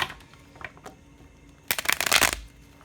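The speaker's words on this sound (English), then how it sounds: "Let me get another shuffle in here." A quick riffle of playing cards being shuffled, a short crisp burst of snapping cards after some quiet handling sounds.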